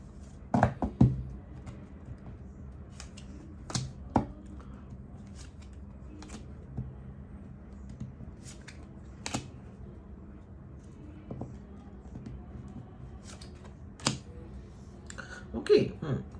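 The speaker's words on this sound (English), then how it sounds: "Last shuffle." Sporadic crisp snaps and riffles of tarot cards being shuffled, close and fairly quiet, scattered over a steady low hum with a few louder bursts near the start and end.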